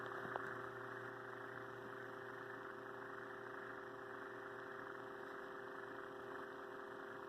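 An Aerospeed box fan's Cam Air motor runs with a faint, steady electric hum and whir, unchanging throughout with a slight click near the start.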